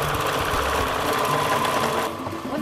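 An industrial sewing machine mends work coveralls, running a loud, continuous rapid stitching drone with a steady mechanical hum, close up and without pause.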